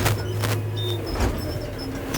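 A tractor pulling a subsoiler through the ground gives off a steady, close diesel drone while working up through the gears, with a few brief clunks and knocks above the engine hum.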